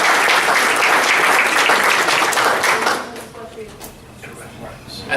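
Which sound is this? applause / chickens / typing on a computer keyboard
applause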